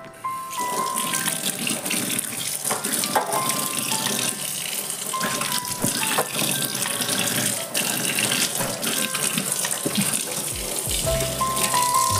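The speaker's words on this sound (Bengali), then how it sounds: "এখন সেটাকে ভালো করে জল দিয়ে ধুয়ে মুছে নিচ্ছি" Tap water gushes steadily into a kitchen sink being rinsed after scrubbing with a scouring pad, with a continuous splashing flow and occasional clinks.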